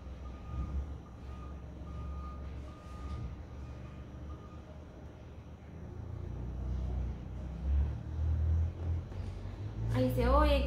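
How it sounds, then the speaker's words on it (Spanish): A car or pickup truck pulls in nearby, its low engine rumble swelling over several seconds while people talk, and a reversing beep sounds close by at the end. "Ahí se oye que va entrando un carro o una camioneta"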